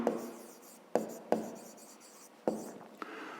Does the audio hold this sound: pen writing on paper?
yes